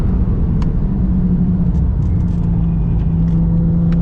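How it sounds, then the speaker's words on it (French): A Porsche 997 GT3 phase 2 flat-six engine roars steadily on a racetrack trackday, heard from inside the cabin as a loud, continuous low rumble with a sustained droning tone throughout. "Je sais pas si tu arrives à entendre le son de ce 6 cylindres, c'est juste énervé."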